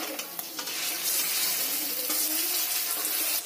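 Pumpkin fritters are turned over in hot oil, a few clacks of a utensil giving way to a loud, close, continuous sizzle and crackle.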